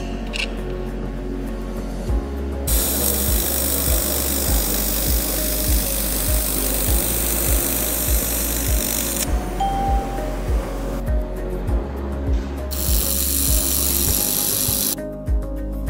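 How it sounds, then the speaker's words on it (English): A portable handheld laser welding machine welding thin aluminum makes a continuous loud hiss in long bursts with short pauses. A low, regular ticking runs underneath the whole time. "There was no high temperature melting phenomenon when welding thin aluminum materials."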